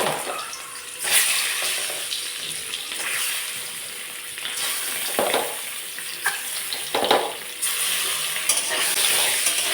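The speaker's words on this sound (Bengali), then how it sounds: "এখন ডিমগুলোকে ভেজে নেব।" Loud, steady sizzling of eggs frying in hot oil in a wok, with occasional stirring scrapes and brief louder crackles, no talking.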